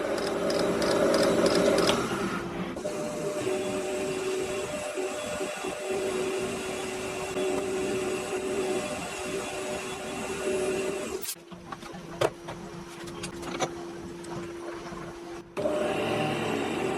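A metal lathe facing off a part, with a continuous motor whine and cutting hum, close and steady, that changes pitch as the machine slows and restarts partway through.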